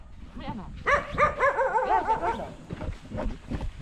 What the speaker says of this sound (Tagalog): ang aso kong husky